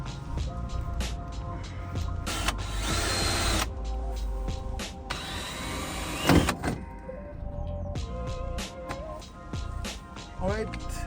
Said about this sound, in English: I'm gonna drill this hole out